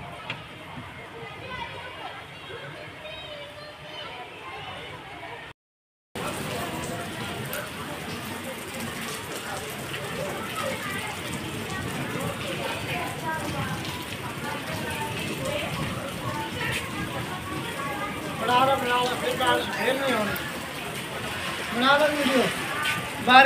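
Steady rain pattering on surfaces after a brief cutout, growing heavier toward the end, with people talking and chattering under it.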